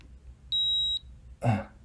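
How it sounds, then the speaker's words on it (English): A single steady high-pitched electronic beep held for about half a second from the equals key of a tiny vintage 1970s Sharp calculator, followed shortly by a soft tap. "When you press equal, it gives you also additionally a bonus long beep."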